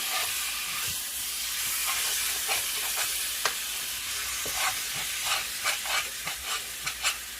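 Meat browning in a non-stick pot for a Philly cheesesteak, a steady sizzle and hiss of frying with occasional light pops and stirring clicks that grow more frequent toward the end.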